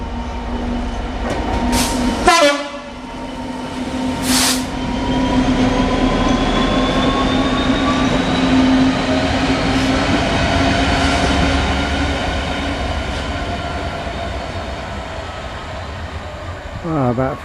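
A train rolls into a station platform with a steady loud rumble and rising whine of wheels and motors, a sharp squeal near the start and clanking at the end, heard close up.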